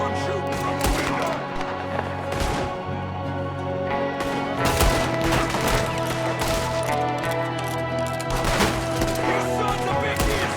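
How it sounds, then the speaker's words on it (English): Gunfire in the western video game Red Dead Redemption 2, with repeated shots and bursts cracking over a constant rumbling game background, dense and loud throughout, with faint voices mixed in. "There's another one shooting from the window."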